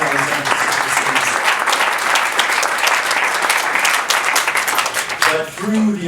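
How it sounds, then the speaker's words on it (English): A large crowd at a Sister Cities International leadership meeting in Santa Fe, New Mexico applauds steadily and loudly, the clapping dense and continuous before tapering off near the end. "give a round of applause for our sister cities"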